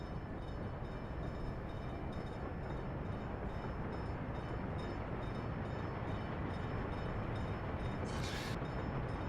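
Trains in Workers and Resources produce a continuous rolling rumble with rail clatter that holds steady and fairly loud throughout, with a brief higher squeal near the end.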